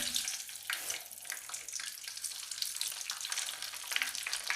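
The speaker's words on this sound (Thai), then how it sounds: "ตั้งน้ำมันร้อนจัดนะจ้ะเพื่อน ๆแล้วเอาลงเลยจ้ะ" Pork rinds frying in very hot oil, a steady close crackling sizzle with bursts of popping spatter throughout, no voices.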